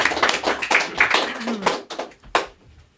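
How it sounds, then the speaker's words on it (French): Scattered clapping at a Festiglace ice festival event in Pont-Rouge, a handful of sharp, uneven claps and taps that thin out and stop, with a little talk around them. "on peut lui donner une bonne main d'applaudissement"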